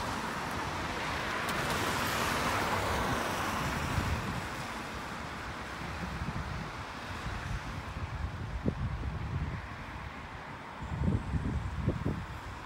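Steady wind buffets the microphone in a continuous rushing roar, with a few low thumps near the end.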